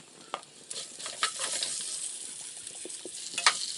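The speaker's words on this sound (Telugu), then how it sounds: "ఇవన్నీ మొత్తం అంతా కూడా ఇట్లాగా ఫ్రై చేసుకోవాలి" Halved ivy gourd (tindora) frying in an oil tempering in a home kitchen, with a steady soft sizzle and occasional sharper crackles and stirring clinks, fairly close.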